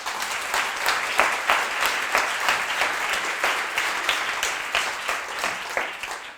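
A pitch-night audience applauds in a steady, dense burst of clapping that holds at an even level for several seconds with no voices over it.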